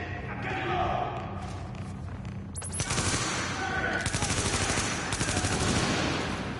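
Automatic turret fire in The Division, a survival shooter game: dense rapid bursts of gunfire start abruptly partway in and keep going loud and steady, with shots clattering over a low rumble and faint voices underneath.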